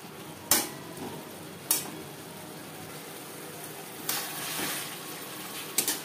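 Spice masala for a Bengali katla fish-head and Malabar spinach ghonto fries in a pan over medium flame, a low steady sizzle broken by a few sharp spatula scrapes and stirs.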